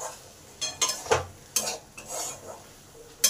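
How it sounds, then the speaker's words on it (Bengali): A spoon stirs and scrapes spices frying in a pot for a red lentil curry with potatoes and Malabar spinach, making repeated close clacks and soft sizzling scrapes in an uneven rhythm. "এবার সব মশলাটাকে ভালো করে কষে নেব।"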